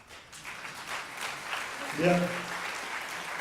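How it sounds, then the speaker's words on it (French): Audience applause fills a mayor's 2019 New Year's greetings ceremony in France. The clapping is moderate and diffuse, and someone speaks over it. "vous pouvez applaudir parce que c'est bien"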